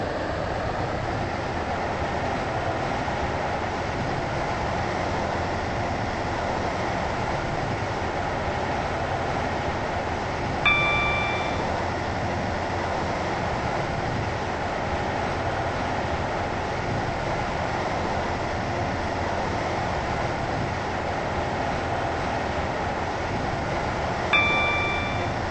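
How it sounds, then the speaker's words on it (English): Passenger train running in a video game, a steady low rumbling hum throughout with two soft chime dings, an onboard announcement voice faintly present. "This train is now approaching Whitney Green."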